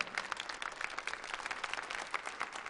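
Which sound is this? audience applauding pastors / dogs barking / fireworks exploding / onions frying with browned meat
audience applauding pastors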